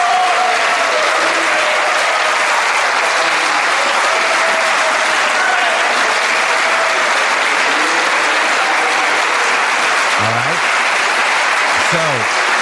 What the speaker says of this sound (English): So they are clapping in the EU